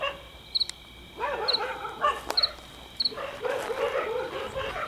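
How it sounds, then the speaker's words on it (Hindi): Several dogs bark and yelp close by in short bursts, with a few sharp high squeaks over the calls, the noise coming in waves and no talk over it. "कुत्ते आए जैसे अभी 2 कदम पे होंगे हमारे"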